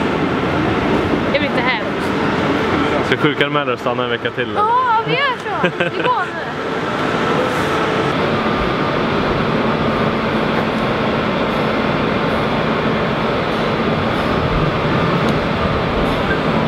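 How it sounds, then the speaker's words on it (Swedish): A train rumbles steadily at a platform with loud continuous noise, while people chat nearby over the din. "Nu är tåget här."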